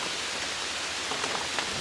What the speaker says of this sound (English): it's pouring the rain right now.